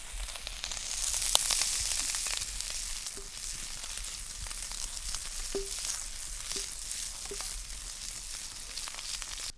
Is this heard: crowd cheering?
no